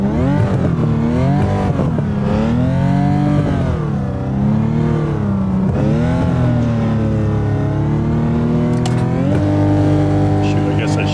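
Porsche Cup race car in iRacing at Virginia International Raceway, engine revving loud and steady at the launch, pitch rising and falling through repeated sweeps, with a voice talking over it.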